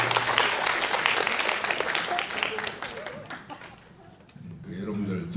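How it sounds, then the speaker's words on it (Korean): An audience at a university's opening-semester gathering applauds as the university president comes forward: dense, sustained clapping for several seconds that fades away, and then a voice begins speaking. "박수 부탁드립니다."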